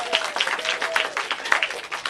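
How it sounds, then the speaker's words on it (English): Audience applause at a Minor League comedy show, a steady patter of clapping lasting throughout, with a faint sustained keyboard tone underneath. "Let's everyone applaud Scott Getline"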